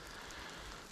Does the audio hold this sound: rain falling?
yes